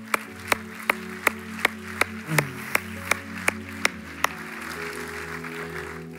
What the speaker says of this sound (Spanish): Demos un aplauso al Señor